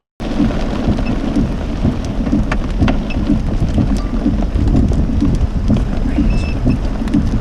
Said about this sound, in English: despite the rain and hail battering the vehicle